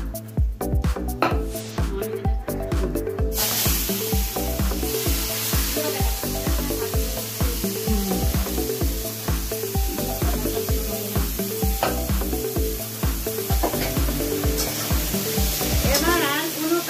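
Banana stem (thor) frying in a pan as it is stirred, a steady close sizzle with scraping and clattering strokes under loud rhythmic music that runs throughout.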